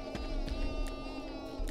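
A sheep in the video game SkySaga bleats with a steady, wavering tone over a bed of game background sound, with faint clicks scattered through.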